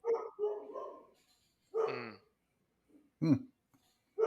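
Dog barking indoors, several separate sharp barks spaced apart with silence between them, fairly close and moderately loud, with no other sound.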